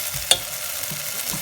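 Turmeric and spices are stirred into a simmering pot of moong dal, giving a soft sizzle with a single sharp clink of a spoon against the pot.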